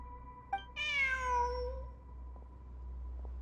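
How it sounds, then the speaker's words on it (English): A cat in the video game Genshin Impact gives one clear, drawn-out meow after a short chirp, close and distinct over a low steady game hum. "Look, a cat."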